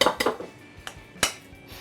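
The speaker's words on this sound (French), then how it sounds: "je vais venir battre 2 œufs" Two eggs being beaten in a deep plate, a fork clinking and tapping against the dish in a few quick, uneven strokes, close and clear with no talk.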